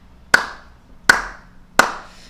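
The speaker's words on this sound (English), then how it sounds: "when he hears someone clapping" Three sharp, separate hand claps ring out at a slow, even pace, each ringing briefly into a quiet background with no other sound around them.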